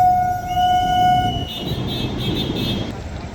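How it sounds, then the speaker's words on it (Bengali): An AC local train arrives at the Khardah rail gate, sounding a loud sustained horn, then a second higher toot over a low, continuous rolling rumble. "তো বন্ধুরা দেখতে পাচ্ছেন এসি ট্রেনটা ঢুকছে এখন।"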